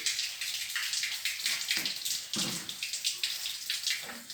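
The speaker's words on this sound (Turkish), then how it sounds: "Bol suyla yıkamamız gerekiyor." Plenty of running water rinses a frosted glass bottle under a tap, a continuous splashing, gurgling stream close by with uneven bursts of spatter and no voices.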